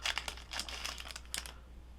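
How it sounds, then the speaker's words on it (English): Crinkly plastic wrapper on a Battletech Inner Sphere Direct Fire Lance card pack is crumpled and torn open up close, several quick rustling bursts over about a second and a half before it falls quiet. "Let's go ahead and open up the card pack."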